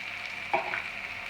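Cauliflower drops into a hot pan of softened garlic and onions for a cauliflower and blue cheese soup, giving a quiet, brief clatter over a faint, steady sizzle.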